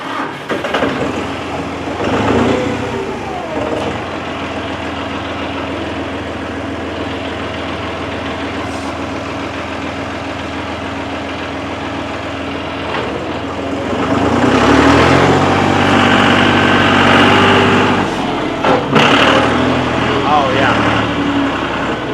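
A ranch truck engine cranks and then runs with a low, steady rumble throughout, growing louder and rougher toward the end, while people talk over it.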